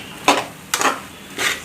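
Mushrooms being stirred in a cooking pan for a South Indian mushroom kulambu, with three separate scraping, clattering strokes of a spoon against the pan, close and moderately loud, and no one talking.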